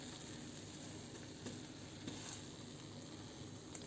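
A French toast sandwich sizzles steadily in a frying pan, a faint continuous crackle with a few soft scrapes as it is flipped, and no voices.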